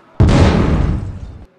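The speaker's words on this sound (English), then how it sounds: "And I have an explosion." A single explosion sound effect for a Game Maker UFO game hits abruptly as a loud, broad boom, then decays as a rough rumble for over a second before cutting off.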